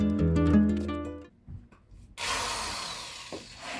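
A power drill whirs loudly as it drives a self-tapping screw into wood, after a brief quiet moment and some light handling taps, with the motor holding a steady grinding buzz until it cuts off.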